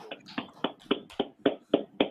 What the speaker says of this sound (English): Sign Christ. Clap it up.